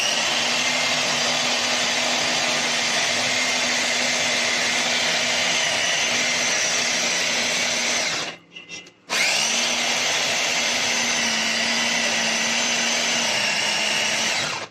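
A blender or food processor beating chicken nugget mixture, a loud close motor drone that runs steadily, cuts out briefly partway through, then restarts and runs on.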